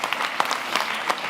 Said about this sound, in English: They're amazing, and they also deserve a round of applause.